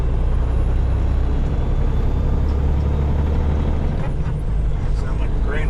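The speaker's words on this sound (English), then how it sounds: "Sound like a grain hauler or something" A grain hauler truck with air brakes rumbles loudly and continuously close by, a heavy engine drone filling the clip, with a hiss near the end.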